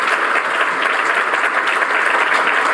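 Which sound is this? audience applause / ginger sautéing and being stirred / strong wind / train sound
audience applause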